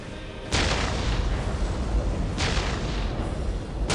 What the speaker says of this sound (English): We will silence that Ork artillery.